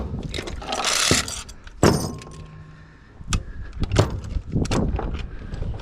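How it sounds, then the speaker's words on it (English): A Mytee ratchet chain binder being cranked to unlock: sharp metallic clicks and clanks come in an irregular series, close by and fairly loud. "So you're cranking to unlock it"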